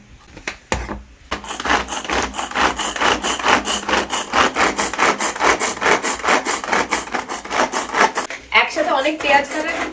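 Jackfruit being chopped with a chopper, a steady rapid series of close, scraping chops in a repeated rhythm, briefly pausing at the start and ending with faint background voices.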